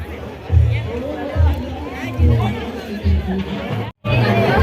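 Crowd of guests chattering at a haldi ceremony, overlapping voices forming a steady near hubbub with a brief silent gap near the end.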